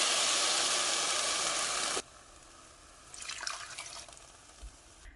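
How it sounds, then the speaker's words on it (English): Vegetable broth pours into a cooking pot for a vegan lentil soup, a steady loud liquid rush for about two seconds that stops abruptly, followed by quieter trickling and dripping. "We're going to add in 4 cups of veggie broth."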